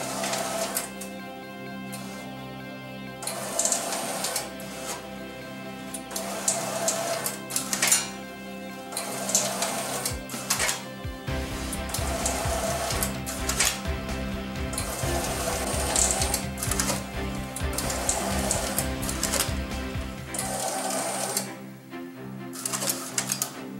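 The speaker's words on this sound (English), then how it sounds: "This machine is purely for cutting business cards for you." Martin Yale GC10 business card slitter running, a rapid mechanical clatter of repeated clicks and whirring that pulses through the run, with a low motor hum joining partway through.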